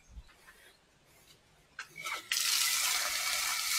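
Water tap in a campsite toilet block turned on, opening with a few brief splashes before settling into a steady, loud, close hiss of running water.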